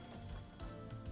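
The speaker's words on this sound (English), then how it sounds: "I heard the phone. I just need to find where it is." In the video game Promise Mascot Agency, a telephone rings quietly in the background, a faint electronic trill repeating in short bursts with no talk over it.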